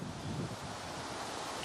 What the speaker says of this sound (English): the wind is blowing the grass